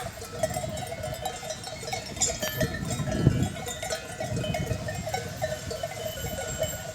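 A flock of sheep moves outdoors, with clanking bells and occasional bleats over a steady rustling background.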